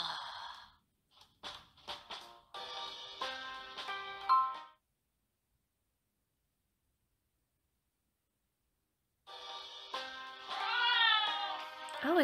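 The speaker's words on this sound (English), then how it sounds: "Oh, it's a cat." A cat meows in the Obey Me! game, with scattered short sounds at first, then a long silence, then a close run of rising and falling meows near the end.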